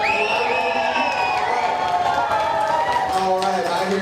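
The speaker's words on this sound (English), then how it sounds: "I hear claps, I hear table taps, I hear snaps" Wedding reception guests clapping, tapping tables and snapping fingers, a loud continuous crowd din of claps and taps mixed with cheering voices.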